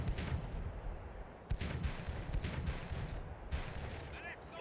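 Ship cannons fire in a pirate naval battle game, a rapid series of deep, booming blasts with rumbling tails, overlapping heavily and continuing loud throughout.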